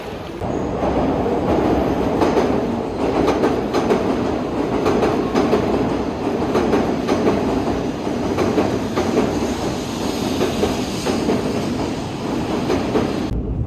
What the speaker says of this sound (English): We are here to get the Shinkansen, which is the bullet train.